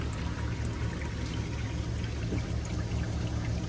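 Hydraulic fluid drains from a John Deere tractor in a steady, continuous pour, a dense close-up wash of liquid with a low rumble underneath that holds at one level throughout, with no talking.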